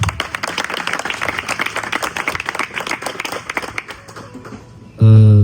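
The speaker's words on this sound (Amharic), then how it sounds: "አጨብጭቡላት አንዴ" An audience at a graduation party claps and applauds steadily for several seconds, a dense close crowd of hand claps that thins out, then a loud burst of music cuts in at the end.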